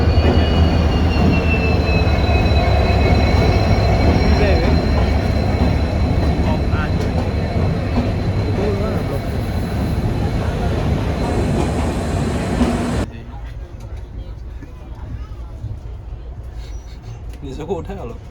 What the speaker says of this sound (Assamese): ট্ৰেইনখন চলিছে দেই